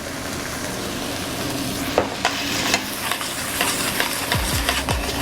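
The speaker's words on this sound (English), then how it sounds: "we're going to deglaze the pan with balsamic vinegar" Balsamic vinegar deglazing a hot pan for a tapas salad dish, a steady close sizzle with occasional stirring scrapes and clinks, no talking.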